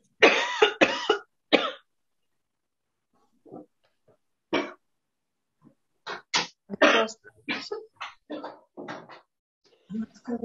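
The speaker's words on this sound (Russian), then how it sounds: "Я сейчас откашлюсь тебе." A person coughs in a short burst of several harsh coughs near the mic, followed after a pause by scattered throat sounds and a longer run of broken coughing.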